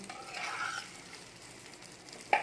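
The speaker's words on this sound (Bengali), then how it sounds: "আমি এখানে দিয়ে এটার সাথে আমি ভালো করে মিশিয়ে নিচ্ছি" A potato mixture frying in a pan while being stirred, a soft, continuous sizzle with light scraping, ending in a sharper clink of utensil on pan, close and fairly quiet.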